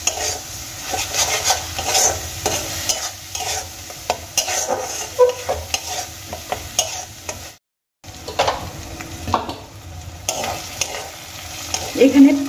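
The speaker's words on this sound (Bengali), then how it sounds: "এবার আমি আদা আর পেঁয়াজ খুব ভালো করে ভেজে নেব।" Grated onion and ginger fry in a pan for an egg curry, a continuous soft sizzle broken by repeated scraping stirs of a spoon against the pan, close and clear, with a brief pause partway.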